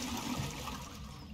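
Toilet flushing in a Phasmophobia bathroom: a loud rushing swirl of water fills the short stretch, steady and close, with no talking.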